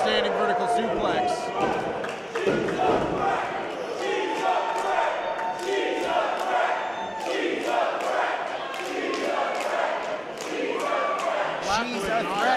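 Wrestling crowd at an intergender Lucha X-Mas match, chanting loudly and rhythmically throughout, with thuds and slams from the ring and a commentator's voice mixed in.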